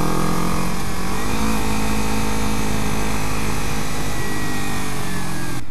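A Kawasaki Ninja 300 engine drones steadily and loudly as the rider slows using only the front brake, the engine note dropping slightly as speed falls, with heavy wind noise throughout.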